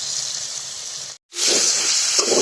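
Chicken meat frying in a pot with new potatoes gives a steady, close sizzling hiss that cuts out briefly midway, then returns slightly louder and busier.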